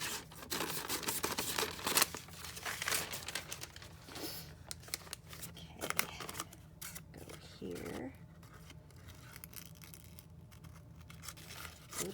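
Scissors snip and crinkle paper in irregular bursts of cutting and rustling while pages are decorated, close and fairly quiet, with a person talking at times.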